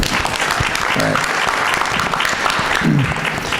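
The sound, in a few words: audience applause for panel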